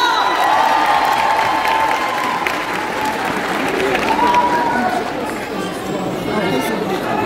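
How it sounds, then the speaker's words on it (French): A crowd at a public gathering applauds continuously while people chatter and cheer, with the clapping staying steady and fairly loud throughout. "applaudissements pour Monsieur USA Ronnie Long"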